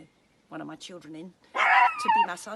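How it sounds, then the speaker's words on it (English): Boo, a therapy dog, lets out a few yips and whimpering barks in a home on a sunny day on Exmoor, heard close while someone talks over it. "That's my dog Boo."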